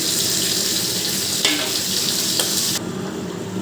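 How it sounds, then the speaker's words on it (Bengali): Fried rohu fish pieces go into a rohu and potato curry already at a boil, giving a steady, loud bubbling sizzle with brief splashy clatter, easing off near the end. "মাছের ঝোলটা আমার ফুটে গেছে আমি এবার ভাজা মাছগুলো দিয়ে দিলাম"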